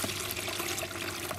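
Water pouring out of a gallon jug used as a fish tank, a brief continuous close splash and trickle with no voices.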